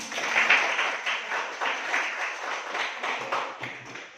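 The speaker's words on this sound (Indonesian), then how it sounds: "Tepuk tangan buat kalian semua." Students in a classroom get a round of steady applause, many hands clapping together in a dense, continuous patter at moderate volume.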